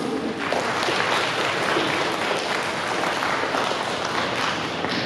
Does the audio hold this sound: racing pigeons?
no